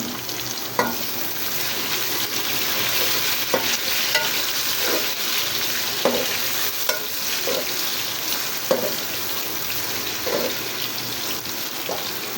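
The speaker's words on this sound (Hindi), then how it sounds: "अब इसमें टमाटर ऐड कर देंगे" Chopped tomatoes go into a hot pan for khichdi and sizzle continuously, with a spoon scraping and tapping the pan at intervals.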